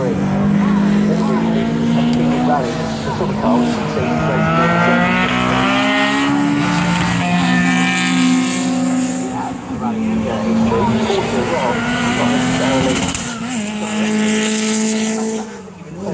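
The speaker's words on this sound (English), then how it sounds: "See the BMW making its way around." A BMW M3 rally car, one of the works-style entries at a car festival, drives around the track, its engine droning loud and steady with rising and falling pitch as it shifts, with faint talk underneath throughout.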